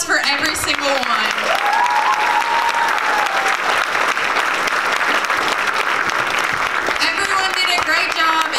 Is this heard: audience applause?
yes